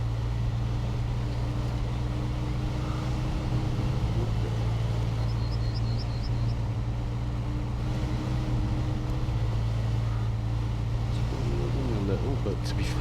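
A heavy truck in the SnowRunner game backs up in reverse with all-wheel drive engaged and the handbrake released, its engine holding a steady, loud low drone under a muffled mechanical rumble for the whole stretch.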